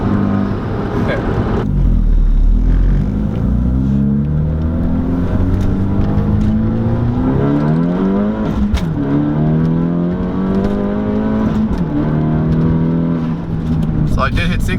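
Hyundai Veloster Turbo 1.6 liter with an aftermarket downpipe, heard from inside the car accelerating hard, its engine note climbing steadily through the revs with a brief dip at a gear shift before rising again; loud and continuous, with a voice speaking over it.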